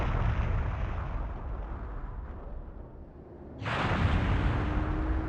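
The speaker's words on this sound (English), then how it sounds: "That cannon we ran through, it just exploded." A cannon explodes in the video game Skies of Arcadia Legends with a sustained, rumbling roar, followed by a second sharp burst that swells back up to loud, close and alone.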